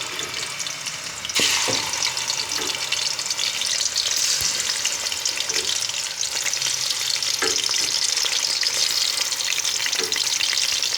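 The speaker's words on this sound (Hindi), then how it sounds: "अब इसमें चिकन फ्राई करते हैं।" Chicken pieces drop into hot oil for chicken karahi, and the pan bursts into a loud, bright, continuous sizzle that holds steady, with occasional stirring knocks and no talking.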